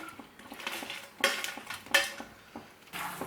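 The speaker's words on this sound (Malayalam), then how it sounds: "ഇതിലേക്ക് നമുക്ക് ഫ്രൈ ചെയ്ത് വെച്ച ചിക്കൻ പീസസ് ചേർത്ത് കൊടുക്കാം" Fried chicken pieces tipped into chilli chicken sauce in a pan, with clattering utensil-on-pan scrapes and two sharper clanks as they are stirred in, close and moderately loud.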